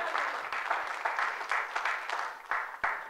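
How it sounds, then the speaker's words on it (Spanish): Church congregation clapping together in a service, a busy, moderately loud patter of many hands that swells and dips in rhythmic surges. "Dele palmas al Señor"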